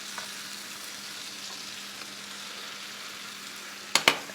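Tandoori chicken fries in butter in a pan over low heat, giving a soft, even sizzle throughout, broken near the end by two sharp clanks of a utensil against the pan.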